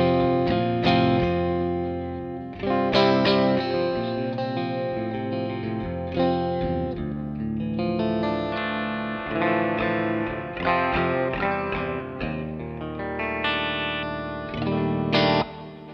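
An electric guitar plays chords and melodic phrases straight into a clean amplifier channel, fairly loud with a lush, ringing tone and trailing echoes, no voices.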